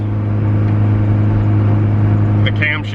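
Honda Civic EF with stock camshafts and a restrictive intake and exhaust, its engine droning in a steady low hum from inside the car on a test drive, with a brief higher burst near the end.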